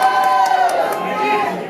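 A wrestling crowd cheers and shouts steadily as wrestler Ryan Moore plays to them, a dense roar of voices with whistle-like peaks and no clear single speaker.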